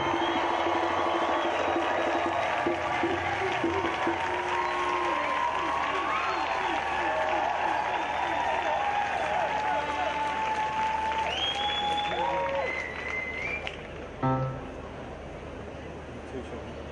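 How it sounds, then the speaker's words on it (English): A large audience claps continuously and loudly, with scattered whoops and cheers, before the applause thins out near the end. "Make some noise for Ibrahim, Sincere, and Abira"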